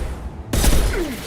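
A sudden loud burst of video game gunfire, a dense crackling volley that starts abruptly and rings on for under a second.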